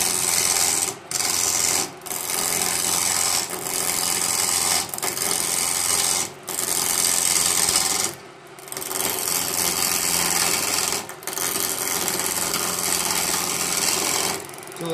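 A wood lathe turns a red oak walking staff while a cutting tool scrapes and rasps against the spinning wood, a loud continuous grind broken by several brief pauses.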